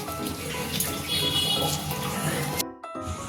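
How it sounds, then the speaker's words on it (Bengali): Water drains and is pressed out of soaked chana dal in a kitchen strainer, a steady close trickling and splashing that runs for a few seconds and then stops abruptly. "এটা এইভাবে ছাঁকনিতে ছেঁকে নেব। জলটা ভালোভাবে চেপে বার করে দেবো।"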